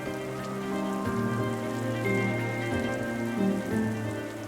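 Rain falls steadily on surfaces outdoors at Queen Elizabeth Olympic Park, an even close patter that stays constant throughout with no talking.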